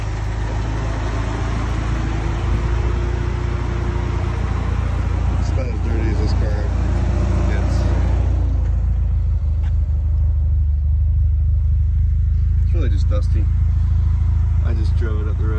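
A car engine idles with a steady low rumble after a short drive up the road, loud and close throughout, with a person talking over it and faint outdoor sounds.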